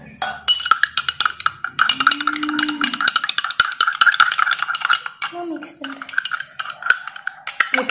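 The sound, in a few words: stirring baking soda mixture in bowl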